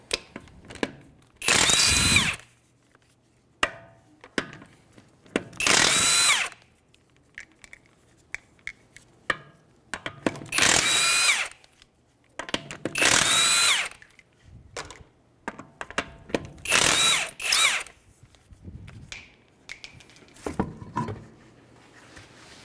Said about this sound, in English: With the 21mm socket, we're going to go ahead and take our tire off.